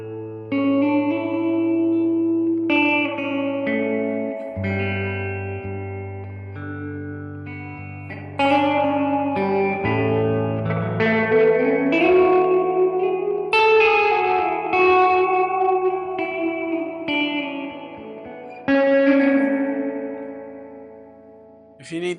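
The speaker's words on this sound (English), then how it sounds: "If I turn it all the way up, you can get lost in the reverb." Electric guitar through a Fender Deluxe Reverb amp with spring reverb turned fully up, notes and chords drenched in heavy reverb, each phrase washing into a long shimmering tail that blurs into the next.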